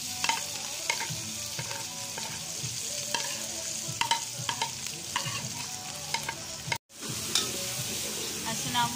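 Tomatoes and green chilies fry and sizzle in a pan while being stirred for palak gosht, a steady hiss broken by repeated scraping clinks, briefly cut off near the end, with no talk.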